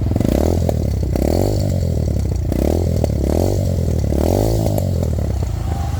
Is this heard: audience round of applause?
no